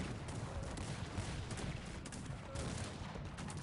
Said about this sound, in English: there was a big explosion happening in Catweasel's base